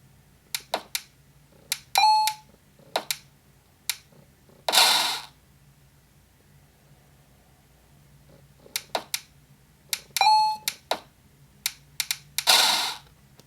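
Short electronic game sounds from the Hit the Notch game on an Apple Watch: scattered clicks and taps, a few high beeping chimes and two brighter bursts, fairly quiet and heard alone without talk.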